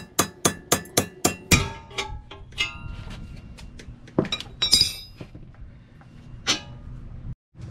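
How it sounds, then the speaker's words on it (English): A 4-pound sledgehammer pounds an outer tie rod on a 2001 Toyota Camry to separate it, producing a rapid run of sharp metallic clanks followed by scattered louder strikes and clinks, close and without speech. "So I got a 4-pound sledgehammer. I'm going to be pounding it and it's going to separate."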